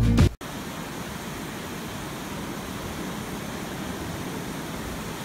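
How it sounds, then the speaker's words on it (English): Ocean surf rolling onto the beach at Galveston, Texas, a steady, continuous wash of broadband noise after a brief louder sound at the start, with no talking. "listen to the waves."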